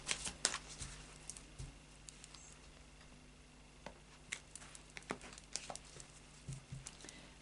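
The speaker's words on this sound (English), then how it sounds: "So I'll just do a final shuffle of the Lightseers Tarot." A Lightseers Tarot deck being given a final shuffle, soft papery riffles and card taps coming in scattered bursts at close range over a quiet room, with no talking.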